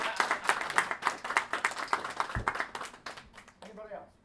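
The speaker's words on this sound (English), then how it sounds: "So I think a round of applause to Clelia." A small indoor audience at an informal coffee-and-chat gathering claps for several seconds, with individual claps audible in an uneven rhythm. The clapping thins out toward the end, where a voice starts talking.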